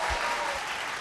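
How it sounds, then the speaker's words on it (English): Brief burst of dense audience applause for a singer at a vocal competition final, a continuous crowd clapping wash heard alone. "Round of applause."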